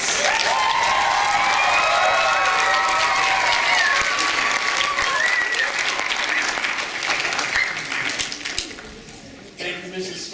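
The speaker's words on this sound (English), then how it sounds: "Once again, let's give them all a big round of applause." A school audience bursts into sustained applause and some cheering at an arts event, loud and dense at first, then thinning and tapering off as voices begin speaking over it.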